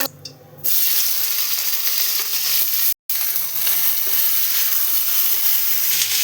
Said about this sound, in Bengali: তো ভেন্ডিটা কিন্তু ভাজা।